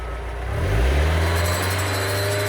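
A Mazda Miata's engine runs with a broken-sounding exhaust, caught from underneath the car: a loud, deep, rumbling drone that swells as the revs rise, then settles into a steady low hum.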